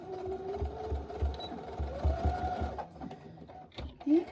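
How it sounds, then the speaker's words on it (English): A sewing machine runs a steady line of stitching along the casing of a small drawstring gift bag, its rhythmic motor hum close and continuous with brief pauses. "with a second line of stitching, back stitching at the beginning, and just running that all the way through to the other side, back stitching at the end"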